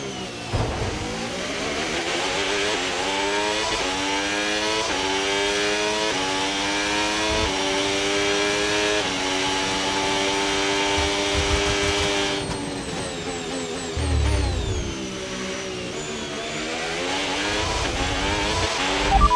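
A Ferrari SF26 Formula 1 car races at the Austrian Grand Prix in the F1 26 game, its engine whining continuously and loud, rising and falling through gear shifts across the lap.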